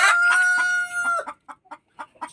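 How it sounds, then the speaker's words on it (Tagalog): A heritage chicken crows loudly and close, a long drawn-out call followed by a string of short, rhythmic clucks, with no talk. "Kasi nag-iingay na yung manok."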